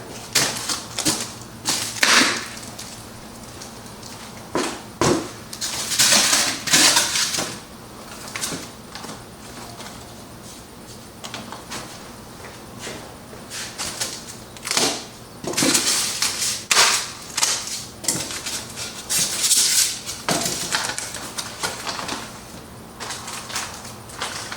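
Parts for a rooftop tent, awning and cage are unwrapped, with bursts of crinkling plastic and paper and scattered knocks and rattles coming in irregular clusters, close and fairly loud.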